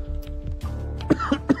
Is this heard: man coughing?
yes